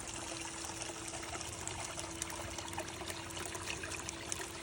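Water runs steadily through a 6-foot by 42-inch Dream Mat power sluice fed with bank run material, a constant broadband rushing trickle with a faint pump-like hum underneath, even in level throughout.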